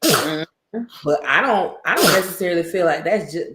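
A man sneezes sharply once near the start of a podcast conversation, then resumes talking in a close, clear voice.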